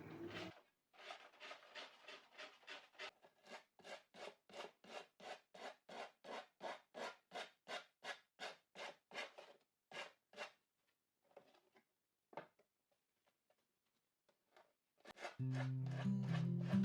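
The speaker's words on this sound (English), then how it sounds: "use a light sandpaper, going around the edge and just sanding on that edge" Light sandpaper rubs around the edge of a piece to trim off excess paper, making a steady run of quick, close raspy strokes that slow, thin out and pause near the end before a louder scuffle.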